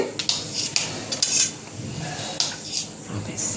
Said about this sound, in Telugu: అన్నీ ఇలా ముక్కలు కట్ చేసుకోవాలండి